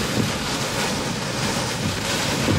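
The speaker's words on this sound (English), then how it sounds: "Strong winds, severe thunderstorm, heading into the Green Bay area." Strong winds of a severe thunderstorm moving toward Green Bay roar steadily and loudly across the microphone in a continuous buffeting rush, with no voices.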